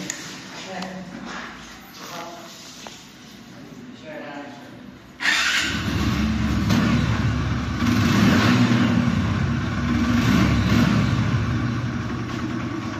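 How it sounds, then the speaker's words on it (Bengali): Someone talks briefly, then an Apache RTR 150cc motorcycle's engine starts up close by and keeps running with a loud, steady, rumbling idle and slight revs to the end. "দেখো বাইকটির সাউন্ড কোয়ালিটি"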